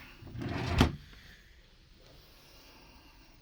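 A storage cupboard or drawer in a cruise ship balcony cabin is opened once, a single close soft thump with a brief scrape, then quiet room tone.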